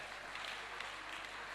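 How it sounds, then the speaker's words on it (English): Audience clapping for the media at a research roadshow event, a dense, even patter of applause at a faint, distant level throughout. "a round of applause for the media"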